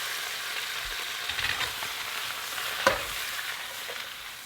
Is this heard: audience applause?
no